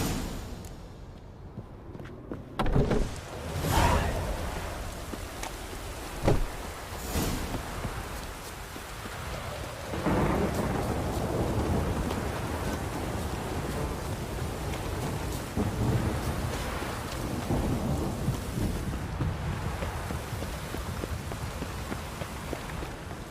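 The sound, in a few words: thunderstorm with rain in video game The Witcher 3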